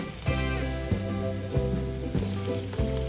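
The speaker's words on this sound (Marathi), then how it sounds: "देठ घातल्यानंतर थोडं परतून घेऊया आणि कांदा सॉफ्ट होईपर्यंत शिजवून घ्यायचा आहे" Chopped onion and coriander stems sizzling as they are sautéed in a pan for butter paneer, a steady close crackling fry with soft periodic stirring scrapes, no talk.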